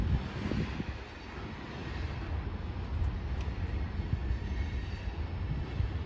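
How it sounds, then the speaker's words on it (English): A CSX coal train rolls steadily past in downtown Hazard, Kentucky, a continuous low rumble of heavy wheels on track with faint metallic squeaks, fairly distant and unbroken throughout. "And there's the end of the train."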